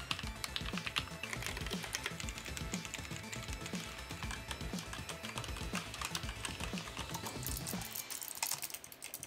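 Rapid clicking of keys on an Azeron gaming keypad, pressed in fast, irregular bursts for several seconds like energetic gameplay input, close and steady, with no voices.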